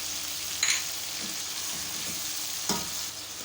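Beef sizzles steadily in a hot pan with garlic ginger paste, a constant hiss with a couple of brief clatters as it is stirred; no one speaks.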